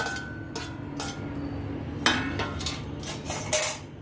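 Spiced cornflakes chivda with curry leaves and green chilli stirred in a pan, a spoon scraping and clinking against the metal in irregular strokes, close and clear.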